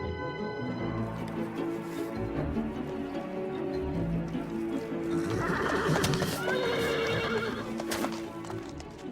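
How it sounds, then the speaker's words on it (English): A horse whinnies loudly with a rising, shaky neigh in a 3D animation set in ancient Macedon, over the steady clop of hooves and some faint background rustle. "That's the horse I told you about."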